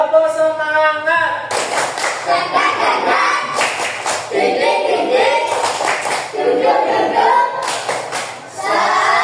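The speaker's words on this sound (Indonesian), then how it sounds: "Sekali lagi, tepuk semangat." A class of children claps a rhythmic spirit chant in several loud bursts of hand claps, with a voice talking over them.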